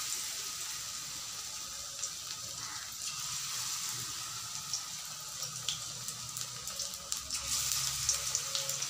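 Cauliflower pakoras fry in oil over a low flame, giving a steady, close sizzling hiss throughout with a few small pops and bubbling spikes and no voices.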